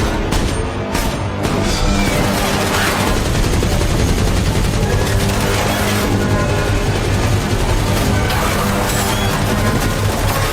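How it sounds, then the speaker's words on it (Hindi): Rapid, loud gunfire fills an animated zombie action scene, dense bursts of automatic shots and booms overlapping continuously with no pause. "तुरंत उसने बिना हिचकिचाए गोली चलाई।"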